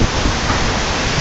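Heavy rain pours down in Dhaka, a dense, steady roar of water that stays even and loud throughout.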